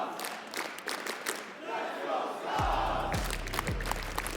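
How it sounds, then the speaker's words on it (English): A crowd at the BLAST R6 Copenhagen Major esports finals chants in support of SCARZ, a broad distant roar building under a caster's voice, with rhythmic low thumps joining partway through. "Starting to get some of those chants out in the crowd as well, Tim."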